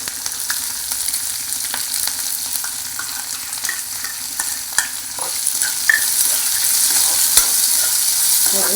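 Onions and chillies frying in hot oil, a continuous bright sizzle with scattered clicks and scrapes of stirring, growing slightly louder toward the end.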